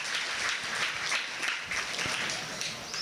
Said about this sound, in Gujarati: જોરદાર તાળીઓથી એનું અભિવાદન કરીએ